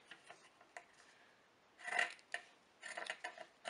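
Scissors snip through linen fabric during a craft project, producing faint, close crisp cuts and soft rasping rubs that cluster into a denser burst of snipping toward the end, with no talking.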